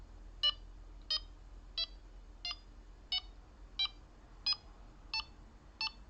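A Delkim bite alarm set to response level 8 emits a series of nine short, high electronic beeps at a steady pace, close and clear over a low background hum.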